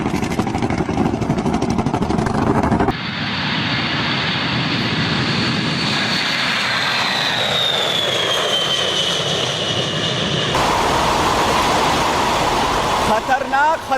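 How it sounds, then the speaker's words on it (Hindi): The engines of a B-52 Stratofortress bomber roar loudly and continuously. The sound changes abruptly in several spliced sections, and one section has a high whine that slowly falls in pitch. "देखिए आखिर कैसे ये दुश्मनों पर गरजता है।"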